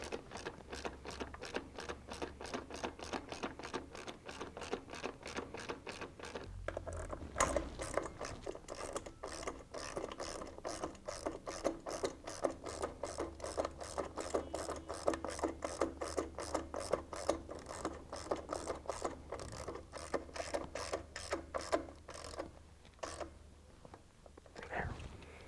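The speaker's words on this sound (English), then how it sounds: "get your 10mm socket and just start tightening down each one." A 10mm socket on a ratchet wrench tightens bolts while a Juiced Scrambler e-bike controller is swapped, giving long runs of fast, close clicking from the pawl and brief pauses between bursts.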